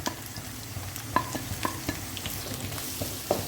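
Two medium onions, sliced lengthwise, fry in a pan with a close, steady sizzle and a few sharp stirring clinks, heard over soft background music.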